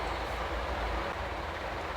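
A passenger train runs on rails through tunnels and scenic country on a long journey, a continuous low rumble of wheels and carriage with steady rolling noise throughout, no talking.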